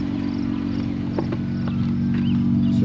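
An Infiniti V6 twin-turbo car engine idling, a steady low hum that stays even and continuous throughout with no revving and no voices.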